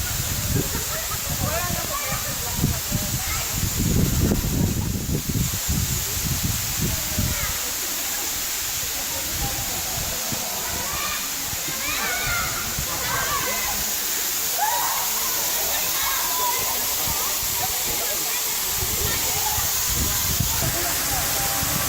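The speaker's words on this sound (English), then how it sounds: "Tumalog Falls, Oslo, Philippines. One of many waterfalls I hope to see in the next 2 days." Tumalog Falls waterfall in Oslo, Philippines, a steady broadband rush of falling water that holds constant throughout, with brief splashing and a slightly louder surge near the start.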